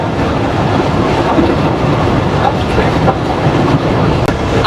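A Mongla commuter train rumbles across the Rupsa rail bridge, a loud, steady close roar of wheels and carriages with faint rhythmic clatter throughout.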